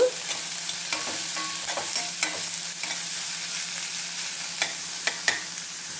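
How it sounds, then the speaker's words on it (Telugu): Onions, chopped green chili and curry leaves fry in a pan for egg curry, a steady close sizzle broken by sharp spatula scrapes and taps as the mix is stirred. "ఒక్క పచ్చిమిరపకాయని చిన్న ముక్కలుగా దొరుకున్నాను దాంట్లో కరివేపాకు ముక్కలు అనమాట మొత్తాన్ని దీంట్లో వేసేద్దాము వేపుకుందాము"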